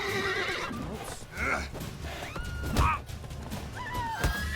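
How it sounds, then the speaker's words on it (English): Spooked horses neighing in the video game The Witcher 3, several loud, wavering whinnies rising and falling over a few seconds, close by, with hoof clatter and some talk underneath. "he's spooking the horses."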